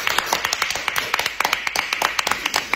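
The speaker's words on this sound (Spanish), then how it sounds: "No quiero tanto aplauso." Classroom applause for a visiting doctor, a dense run of many hands clapping close by, steady and fairly loud for the whole stretch with no talk over it.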